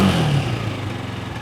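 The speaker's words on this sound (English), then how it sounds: "you can notice the engine's now revving a little bit higher" An ST250 motorcycle engine idles close by after being revved slightly higher, a loud low throbbing rumble with mechanical clatter that eases down in level over a second and a half, with no talk.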